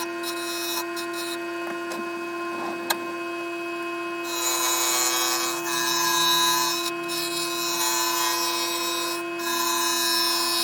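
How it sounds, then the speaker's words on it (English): A chisel shapes a rounded wooden hanging decoration with steady, close scraping and rasping strokes against a constant tonal hum, and the cutting grows louder partway through. "I'll just finish the rest off with a chisel."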